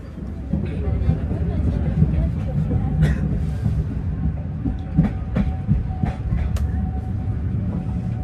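Airlangga economy-class passenger train, a coach built in 1985, rumbling along the rails on the Jakarta–Surabaya run, a steady low roar with occasional clicks and rattles heard from inside the carriage.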